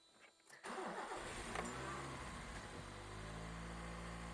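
A 1982 Honda Civic engine with a freshly replaced ignition system cranks briefly and catches, then settles into a steady, loud idle that holds to the end.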